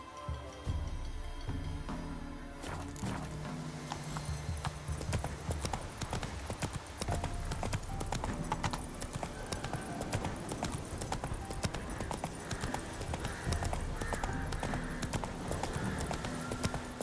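Roach, a horse in The Witcher 3, gallops steadily with rapid rhythmic clip-clop hoofbeats, close and continuous throughout, over a bed of game music.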